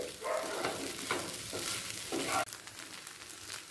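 Soaked sabudana and vegetables are mixed in a pan over low flame, with a few soft scraping strokes over a gentle sizzle that drops off abruptly near the end, quiet and close.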